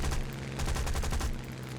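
Rapid automatic gunfire from an aircraft's guns in the combat game War Thunder, a dense burst of bullets lasting over a second before ending in a short, lower rumble tail.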